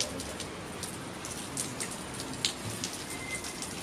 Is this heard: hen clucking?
no